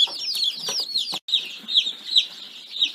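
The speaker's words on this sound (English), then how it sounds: "this side is a couple Easter eggers and some Rhode Island Reds" Young Rhode Island Red and Easter Egger pullet chicks in a brooder, giving repeated high peeping chirps and soft clucks in quick overlapping bursts, close and moderately loud with no talking.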